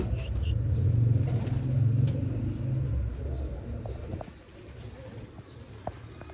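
Teddy pigeons cooing in low, rolling phrases up close, fading after a few seconds into quieter background noise with a faint flutter of wings.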